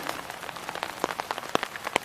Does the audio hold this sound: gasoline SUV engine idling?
no